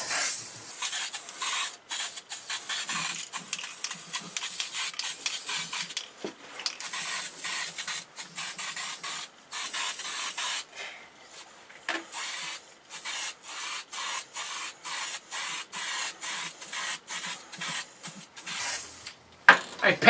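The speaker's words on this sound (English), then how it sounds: "So I'm going to give it a gray painting, gray spray painting." Gray spray paint hisses from an aerosol can onto a lamp post in repeated bursts, loud and close, with short pauses between sprays.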